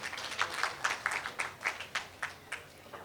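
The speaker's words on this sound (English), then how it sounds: "Can we have one more huge round of applause for all of them?" Applause for panelists at an education conference in Bengaluru, heard as a sparse run of about a dozen distinct claps in an uneven rhythm, fairly faint and thinning out rather than a full crowd ovation.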